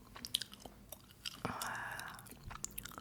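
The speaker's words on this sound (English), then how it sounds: "And I'm chewing gum." Gum is chewed close to the microphone in soft, wet, irregular smacks and clicks, quiet and intimate in an ASMR setting, with a brief breathy rustle midway and no talk.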